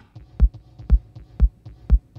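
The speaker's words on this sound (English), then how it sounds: "kind of massive reverb, kind of, I think it's a church reverb" A deep, booming Roland TR-8S drum machine kick hits in a steady rhythm, each thump trailing into a long, spacious church reverb tail, with lighter ticks between the beats.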